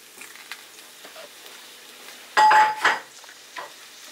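Fish hits butter and a little oil in a hot pan and bursts into a loud sizzle, a sudden hiss that swells briefly and then settles against a quiet kitchen background.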